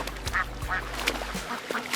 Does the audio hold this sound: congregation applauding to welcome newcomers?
no